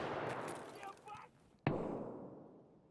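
A single sharp gunshot in the video game Escape from Tarkov, heard at a distance amid game ambience, with a short echoing tail after the crack.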